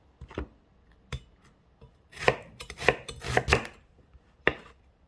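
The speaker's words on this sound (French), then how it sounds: "je vais couper les oignons en petits morceaux" A knife chops onions into small pieces on a board, a run of sharp, close taps, sparse at first then quicker clustered strokes, with brief pauses in a quiet kitchen.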